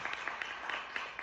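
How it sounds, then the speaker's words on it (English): Audience clapping at a SWATS CST 2026 candidate forum, a fairly faint, steady patter of many hands with a few sharper claps standing out, continuing through the moment. "Let's do another clap, y'all."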